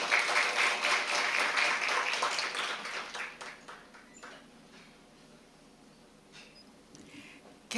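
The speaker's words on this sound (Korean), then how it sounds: "모두 뜨거운 박수로 환영해 주십시오." An audience at an academic conference opening claps to welcome the speaker, a dense round of applause for about three seconds that thins out and fades to scattered claps and quiet room noise.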